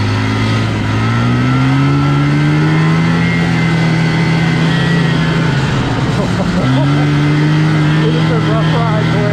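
Engine of a small, lightweight vintage Ski-Doo Elan snowmobile while riding, a loud, close, droning two-stroke buzz holding a steady pitch that dips briefly, then resumes and climbs again, with a voice over it.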